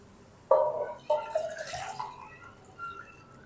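Water poured from a container into a pot for dal: a couple of sharp splashes followed by gurgling, trickling liquid that tapers off, fairly close and moderately quiet with no talking.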